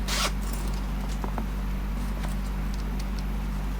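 Zipper on a finished zipper pocket of a sewn East West bag, one quick rasping pull at the start followed by fainter fabric handling and small clicks, close and fairly quiet.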